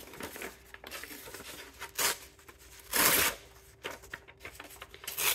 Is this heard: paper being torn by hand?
yes